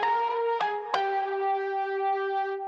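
Processed electric keys sustain a few soft tones with a couple of sharp attacks, warm and slightly echoing, fading gently.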